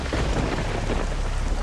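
Heavy rain with rumbling thunder pours outside a house, a dense, continuous hiss with a deep rolling roar beneath it, loud and steady throughout with no voices.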